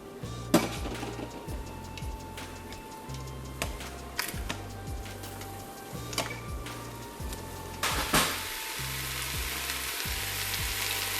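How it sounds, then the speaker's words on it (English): Onions and rice sauté in an Instant Pot for Spanish brown rice, a faint steady sizzle with occasional clinks and stirring scrapes under soft background music, ending in a brighter burst of hissing. "This has been sauteing for about 7 minutes now."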